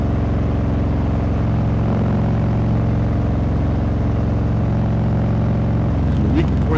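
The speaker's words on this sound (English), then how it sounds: "Before Thanksgiving, I'm out riding a bike." Steady, loud motorcycle engine drone while riding on the road, a continuous low throbbing hum with wind, holding constant throughout.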